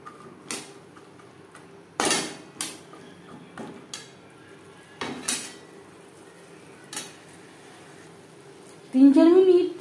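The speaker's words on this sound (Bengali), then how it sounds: "মশলার সাথে মটর বেশ ভালো করে মিক্স করে দেব।" A utensil scrapes and knocks against a cooking pan as peas are mixed with spices for vegetarian ghugni, a few sharp irregular clanks spaced through the clip, ending with a short burst of sizzling or voice.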